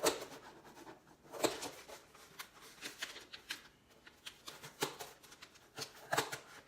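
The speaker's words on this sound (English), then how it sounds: "cut out the hole" Scissors or a blade cutting a hole in a cardboard shoebox: faint, close, irregular scratchy snips and rasps with quiet pauses between them.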